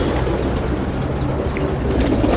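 An aging pet pigeon cooing softly at dusk, a low steady murmur held close to the microphone with faint bird chirps and outdoor background noise throughout.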